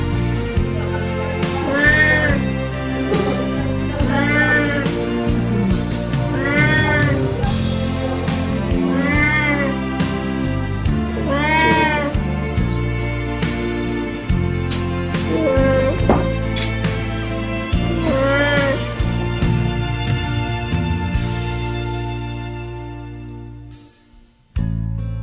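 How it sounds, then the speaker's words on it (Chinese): A cat meows repeatedly in a loud, close, drawn-out series of rising and falling cries, spaced a few seconds apart. "喵喵"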